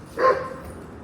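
A single short dog bark close by during a late-night walk with the dogs near the Society Hill Towers, one sharp yelp followed by quiet background.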